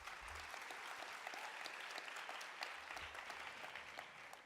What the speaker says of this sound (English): please give them a big round of applause for this